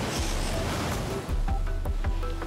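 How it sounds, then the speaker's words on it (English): Ocean waves surge and crash on rocks in Galicia in a steady, close roar, with rushing water and wind buffeting throughout. "The waves are knocking me all over the place."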